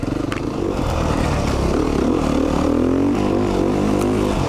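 A 2019 Beta 390 RR Race Edition dirt bike engine pulls steadily under riding on mountain single track, a loud continuous single-cylinder drone with rising and falling pitch and some clatter, close up and without talk.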